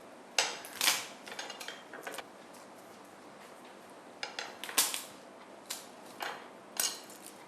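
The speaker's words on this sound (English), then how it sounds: "we need around 2 to 3 cloves of garlic. Okay. And we just crush these" Garlic cloves being crushed on a kitchen surface, heard as a series of sharp, close knocks and clacks in uneven clusters, with quiet pauses between them and no talking.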